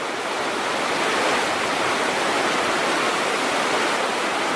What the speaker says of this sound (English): a river separating Tajikistan from Afghanistan